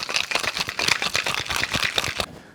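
Ice rattles hard inside a cocktail shaker, shaken in a fast steady rhythm for a couple of seconds before stopping.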